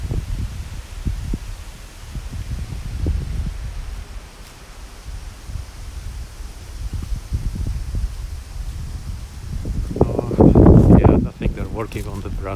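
Wind gusts through gigantic cherry trees on a Tokyo street, a steady broad rustle of leaves and branches with a louder, fuller gust swelling near the end.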